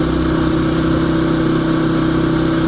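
A Champion dual fuel generator runs at full throttle, giving a loud, steady engine drone with a constant low hum and no change in pitch throughout.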